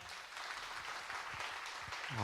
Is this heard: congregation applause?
yes